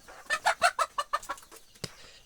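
Free-range native hens on a poultry farm cluck in a quick series of close, sharp calls, followed by a short pause and one final louder cluck.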